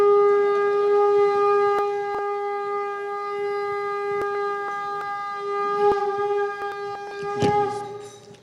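A conch shell blown by a priest gives a long, steady, loud drone that holds its pitch for several seconds, with brief sharp knocks and a swell near the end.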